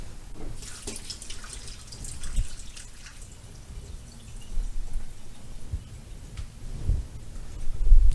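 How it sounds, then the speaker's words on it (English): Water drained from a cooking pot of boiled potatoes into a sink while making Polish cucumber soup (zupa ogórkowa), a steady splashing pour with dripping, moderately close, no talking. "Now I will drain the water."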